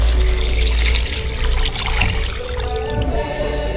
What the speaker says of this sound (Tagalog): Maglagay na rin po tayo ng tubig.